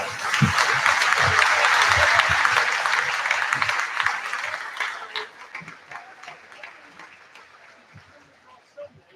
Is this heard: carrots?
no